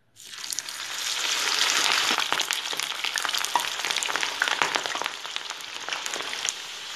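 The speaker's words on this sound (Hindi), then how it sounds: "मैंने यहाँ कढ़ाई में तेल गरम कर लिया है अब आलूओं को इसमें डालेंगे" Potatoes drop into hot oil in a kadai, and a loud, dense sizzle and bubbling crackle rises within a second and holds steady with popping spatters, no voices.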